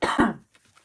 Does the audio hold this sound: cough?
yes